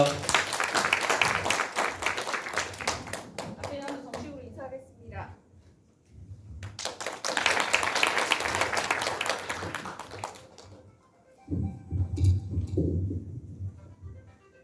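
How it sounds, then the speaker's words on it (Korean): At a university orientation ceremony, an audience claps in two loud bursts of applause for a student council president, separated by a pause, with a speaker's voice coming in near the end. "큰 박수 부탁드립니다"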